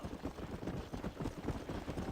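Horse hooves clip-clop at a steady walking rhythm in a western-style game, fairly faint and alone with no talk.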